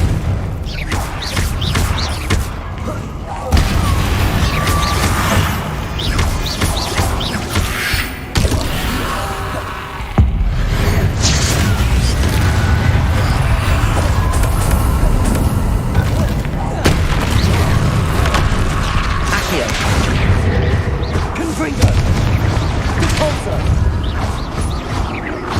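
Repeated Confringo fire-blast spell impacts in Hogwarts Legacy combat, loud booming bursts with mechanical creaks and clatter, dense and continuous with sharp hits around three, eight and ten seconds, mixed with game effects.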